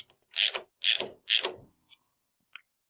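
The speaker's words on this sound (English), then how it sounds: "I'll just tighten the rest of these up here" A ratchet tightens bolts on a VW CV joint in three quick, close, loud bursts of rapid clicking, followed by a couple of small metallic taps.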